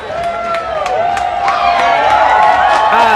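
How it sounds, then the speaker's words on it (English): A large crowd at a political rally screams and cheers loudly and continuously, with whoops and shouts rising over a dense wash of noise, strong and sustained throughout. "Just in case you're wondering what all the screaming and cheering is"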